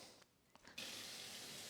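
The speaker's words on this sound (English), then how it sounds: "I'm gonna rinse this chicken under water before I cut the gross stuff out." A tap turns on and water runs over raw chicken being rinsed, a brief pause before a sudden, steady hissing gush of water that continues to the end, close by and faint overall.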